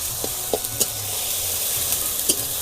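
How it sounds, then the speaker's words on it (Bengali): Leafy greens (saag) being stirred in a pan, a soft continuous sizzle with a few light scraping strokes of the spatula, close and moderate, no talking. "শাক, খাড়া, এইসব একটু ভালো করে নেড়ে নিতে হবে"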